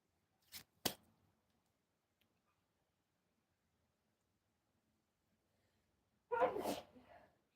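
A single loud, close sneeze bursts out of near-silence on a quiet live call, after a couple of brief soft knocks earlier.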